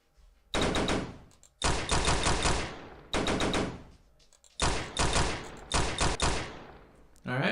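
Game gunfire from shooting animations, loud bursts of rapid-fire shots in five or six separate volleys with brief pauses between, close and dominant.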